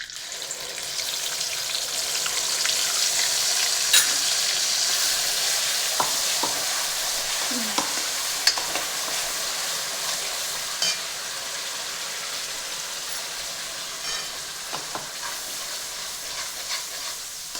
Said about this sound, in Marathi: तर आपण यात तेज पण टाकूया त्यानंतर जिरं त्यानंतर आपण ही जी ग्रेव्ही बनवली होती ती टाकूया